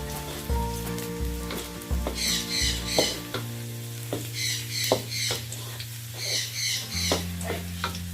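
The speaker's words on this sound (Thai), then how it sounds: "make fried vegetable with pork" Vegetables and pork stir-fry in a pan with soft sizzling and repeated scraping stirs, close and fairly quiet, over a steady low background tone.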